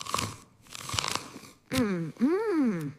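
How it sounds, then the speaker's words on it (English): Crunchy bites into a fresh apple, several crisp crunches at close range, followed by voiced sounds as someone chews and reacts. "This apple is very crunchy."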